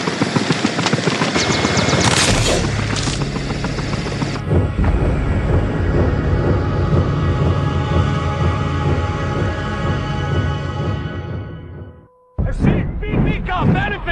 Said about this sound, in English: You can take the chopper after I'm finished with it.